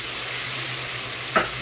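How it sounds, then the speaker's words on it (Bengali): Rui fish frying with onion and ginger-garlic masala in a pan, a steady soft sizzle with a single brief stirring scrape near the end. "এখন মাছটা মশলার সাথে ভালো করে কষিয়ে নেব"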